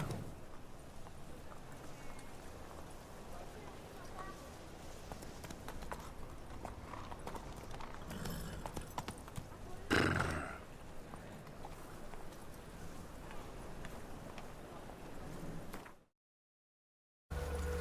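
Roach, Geralt's horse in The Witcher 3: Wild Hunt, gallops with steady, rhythmic clip-clopping hooves that go on for several seconds, then drop out briefly near the end.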